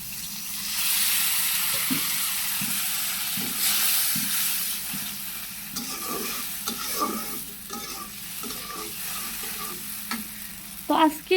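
Prawn curry with taro stolons frying in a pan as turmeric powder is stirred in, a steady sizzling hiss under repeated scraping and clinking stirring strokes, close and fairly quiet, with no talk.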